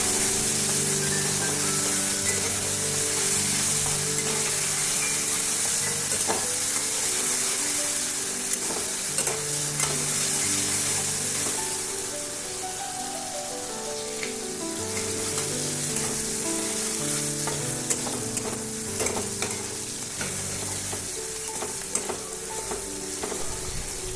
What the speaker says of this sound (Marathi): तर टॅमॅटोही चांगला आपल्याला इथं शिजवून